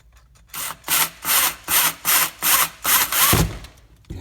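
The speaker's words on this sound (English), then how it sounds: "so we got the drill bit here, and get that down, and then get the first one" Rhythmic back-and-forth grinding of a drill bit working into wood, about seven loud strokes in a steady cadence, close by, while installing slingshot floor mats.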